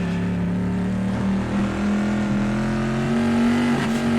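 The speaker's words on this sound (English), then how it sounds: "Ooh, right up on the rev limiter." Historic Bizzarrini GT race car in a racing video game, its engine held high on the rev limiter with a steady, loud buzzing drone and a slight pitch climb, no voices present.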